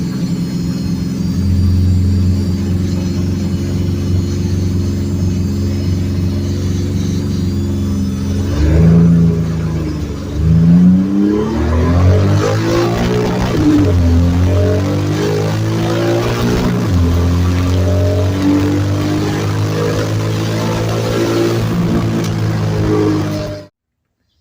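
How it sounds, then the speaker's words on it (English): A turbocharged Geo Metro running 20 psi of boost pulls hard up through the gears to fifth on a track. The engine rises loud and close with each climb, broken by brief pauses at the shifts, then cuts off at the end. "I now have 20 pounds boost all the way up into 5th gear."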